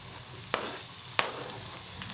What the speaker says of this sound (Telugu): ఇందులోనే కట్ చేసి పెట్టుకున్న టమాటా ముక్కలు యాడ్ చేసేస్తున్నా